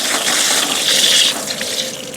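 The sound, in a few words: water running from an outdoor spigot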